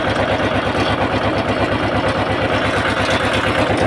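A tractor engine idles steadily near a trolley being loaded with soil, giving a loud, even low throb with a quick regular pulse throughout and no voices.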